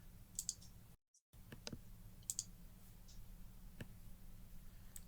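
A computer mouse clicking OK in a spreadsheet dialog: a handful of small, close, dry clicks in quick pairs over faint room hiss, with no talking.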